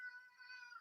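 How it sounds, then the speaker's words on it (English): A house cat gives a single faint, drawn-out meow, brief and quiet in the background. "Every time we hear the cat, drink everybody."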